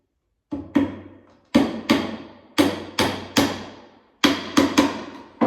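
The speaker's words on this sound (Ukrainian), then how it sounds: "О, отакий у мене молоточок є" A small hammer taps sharply about a dozen times, often in quick pairs with short pauses between, each strike ringing briefly and close by.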